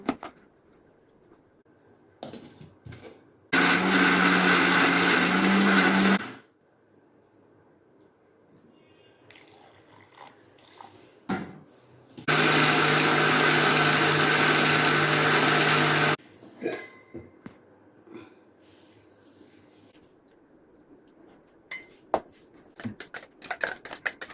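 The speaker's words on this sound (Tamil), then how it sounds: "வதக்கிய பொருட்களை நன்கு அரைத்து எடுக்கவும்" A mixer grinder roars loudly in two bursts, one about three seconds and one about four, grinding sautéed ingredients for spicy tomato chutney, separated by quiet kitchen clinks and handling.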